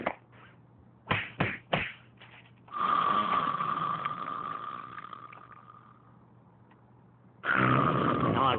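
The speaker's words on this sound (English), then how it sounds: "you're snoring" A cartoon duck snores: after a few sharp snorts comes one long, rasping, nasal snore that fades slowly, then a second loud snore begins.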